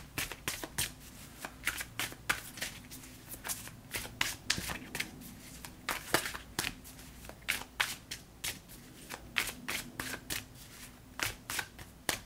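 Tarot cards are shuffled and drawn close up, quiet crisp riffling and snapping flicks in irregular quick bursts throughout, with faint soft handling noises between them and no talk.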